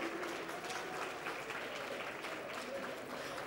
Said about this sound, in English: let's give a huge round of applause for our enthusiastic teachers